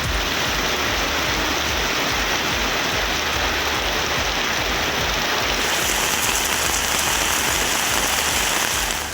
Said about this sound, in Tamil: இரவில் மழை கொட்டி தீர்த்ததால் வெப்பம் தணிந்தது